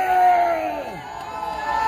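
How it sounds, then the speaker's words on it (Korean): Crowd at a political rally shouting and cheering together, a sustained roar of voices that dips briefly before swelling again. "지금 우리의 함성을 보여주자고요"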